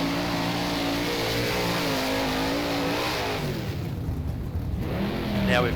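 A simulated 410 sprint car engine in rFactor races on the Williams Grove dirt track, a loud, buzzing, close drone whose pitch wavers through throttle changes, dipping briefly and then revving up again at the end.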